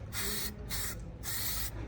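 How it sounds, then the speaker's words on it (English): Primer base coat sprayed from a can onto a 3D-printed cosplay piece, three loud, close hissing bursts separated by brief pauses. "It's very much like spray painting, but it's not actually paint. This is a base coat of primer."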